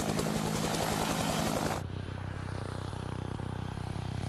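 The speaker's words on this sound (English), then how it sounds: "Often the first thing you hear from a helicopter is the sound of the wake from the main rotor hitting" Helicopter main and tail rotor noise, loud and continuous, with a dense rhythmic chopping that shifts partway through to a steadier, thinner drone.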